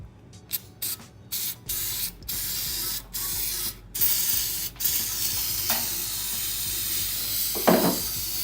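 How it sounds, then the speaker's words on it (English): Carburetor cleaner sprayed from an aerosol can into the inside of an engine part: a series of short hissing bursts, then a longer continuous spray, loud and close with brief gaps between pulses. "I'm just gonna give the inside a quick spray to let soak with carburetor cleaner"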